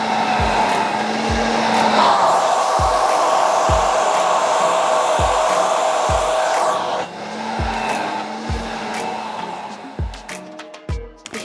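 A hair dryer roars steadily while blow-drying hair at the roots, close and loud, with brush strokes thumping regularly against it before the airflow drops and shifts near the end.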